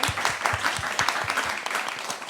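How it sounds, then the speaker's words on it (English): An audience claps for panel speakers after a talk on urban poverty, steady warm applause with distinct individual claps, moderately loud and continuous throughout. "just give them a big warm round of applause"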